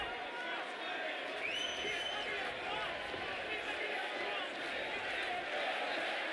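At a UFC arena, a large crowd roars steadily for Michael Bisping, a dense, continuous wash of cheering in the distance that keeps going throughout.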